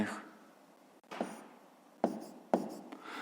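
Pen or chalk writing down numbers during a fifth-grade maths exercise, three or four short scratchy strokes separated by pauses, close and fairly quiet, with no voice over them.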